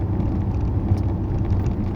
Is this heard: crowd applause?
no